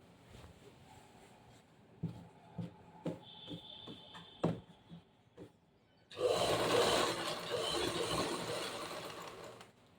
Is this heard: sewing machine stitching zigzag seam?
yes